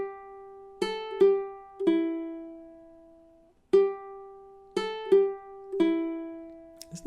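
Silent Night is picked slowly on guitar, one clear plucked note at a time with gaps between phrases, each note ringing out and fading, close and fairly quiet with no voices.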